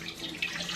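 A cup of water poured into a bowl for pizza dough, a brief, close, steady splashing pour lasting under a second.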